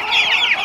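A meat chicken gives a short, close cluck, a quick warbling call lasting under a second.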